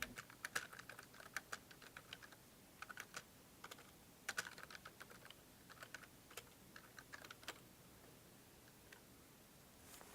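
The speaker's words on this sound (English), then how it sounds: "Sorry, just typing into chat." Rapid, irregular clicking of computer keyboard keys as someone types a chat message during a Dota 2 match broadcast, moderately close with short bursts and pauses, no voices.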